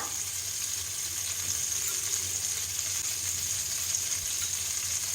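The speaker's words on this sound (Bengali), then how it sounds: "এই তেলের মধ্যেই আমি কিছু ফোড়ন দেবো প্রথমে দেব শুকনো লঙ্কা" Dried red chillies tempering in hot oil, giving a continuous, even sizzle and hiss close up with no talking.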